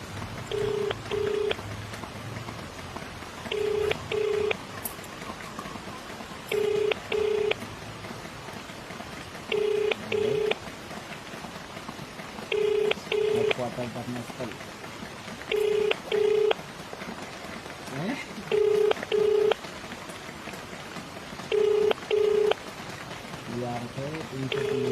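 A phone call to police sounds as a repeating ringback tone, paired double beeps recurring every few seconds over a steady background hiss, with no one picking up.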